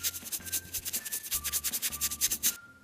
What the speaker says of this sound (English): I'm just going to lightly brush it across the ridged surfaces.